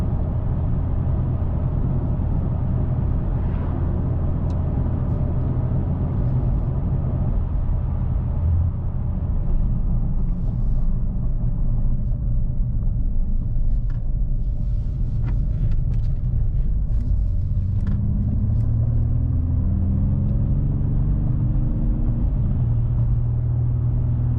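Cabin sound of a 2025 Mercedes-AMG E53 sedan while driving: a continuous low engine drone and road rumble, steady and fairly loud, with a gear change audible as shifting tone near the end, no talk.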